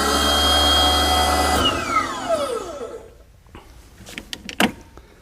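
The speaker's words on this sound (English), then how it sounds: "Now I have a manual lowering valve right at the base of the machine that's operating properly" A Genie aerial work platform lowers through its manual lowering valve, a loud steady hydraulic whine and motor hum that cuts off, then a descending tone, followed by scattered metallic clunks and knocks.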